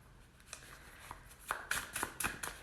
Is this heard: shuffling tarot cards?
yes